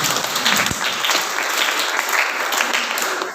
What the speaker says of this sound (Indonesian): Ini luar biasa, tepuk tangan kepada kita.